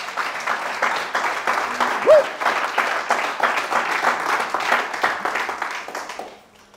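A church congregation claps in a quick, steady rhythm for about six seconds before the applause fades out, with a brief voice rising partway through.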